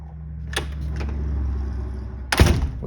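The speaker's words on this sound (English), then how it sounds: "Let's go around and shut the door." A screen door swings shut with a loud close bang and latch clatter at the end, preceded by a softer knock and rattle over a low background rumble, no talk.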